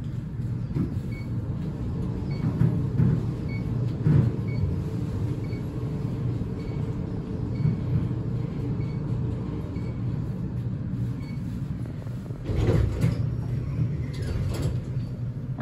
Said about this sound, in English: We just like to ride elevators.